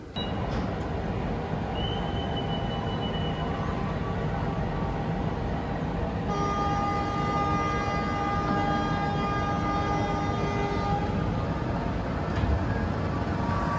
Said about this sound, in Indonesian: saat ini kereta api Malabar dan kereta api Majapahit diberangkatkan bersamaan ya dari stasiun Tulung Agung